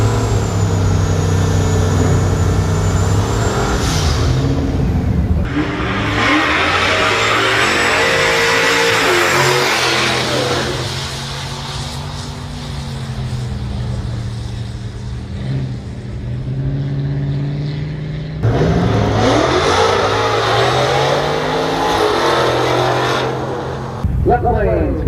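Cars drag racing on a strip produce loud engine roars and revving in two long bursts with rising pitch sweeps, while a commentator talks between the runs and over them.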